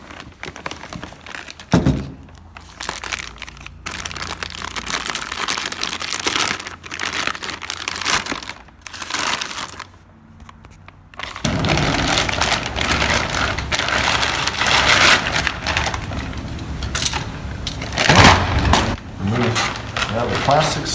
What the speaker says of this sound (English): Just need to pull it outside of the plastic.